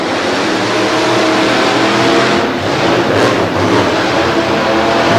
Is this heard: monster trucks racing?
yes